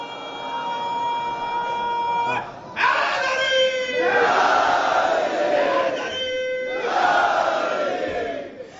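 A congregation at a religious gathering recites salawat on Muhammad and his family in loud unison chanting, in several swelling phrases separated by brief pauses.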